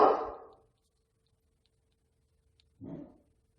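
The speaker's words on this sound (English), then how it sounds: "Oh, that's my dog barking out the window." A dog barking out a window gives two short barks, one at the start and another a few seconds later, muffled and somewhat distant, with silence between.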